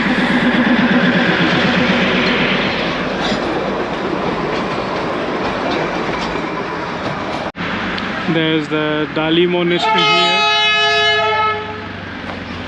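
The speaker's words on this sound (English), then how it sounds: "Let the train pass. This one has a diesel engine." A diesel train near Kurseong in India rumbles loudly past with steady clattering, then its horn sounds several long, layered blasts toward the end; someone speaks briefly over the noise.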